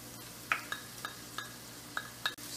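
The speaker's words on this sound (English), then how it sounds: "So to this right now, we're going to add our green onion and garlic. Give this a stir." Green onion and garlic frying in a pan are stirred, giving a few sharp clinks of utensil against the pan over a faint, steady sizzle.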